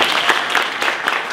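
An audience at a personal development seminar claps steadily in a short burst of applause, a dense wash of hand claps with a few louder individual claps nearby.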